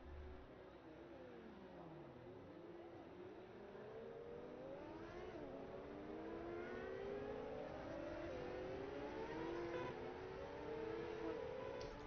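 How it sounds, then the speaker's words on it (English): Micro sprint race cars at Lanier Speedway pull out onto the track for a feature race, several engines revving and whining with rising and falling pitch as they pass, a steady mechanical drone with no talk. "We see all cars pulling out onto track"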